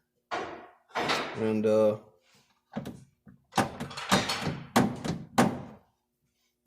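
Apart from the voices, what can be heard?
banging from unloading the back of a GMC Savana van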